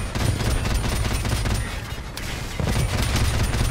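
Sustained machine gun fire in Call of Duty Modern Warfare Remastered, a dense, loud, continuous rattle of rounds with a brief dip midway before the firing resumes.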